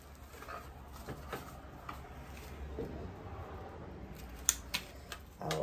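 Scissors snipping white flower stems while arranging a summer table centerpiece in an antique toolbox, a few sharp clicks near the end over a quiet room.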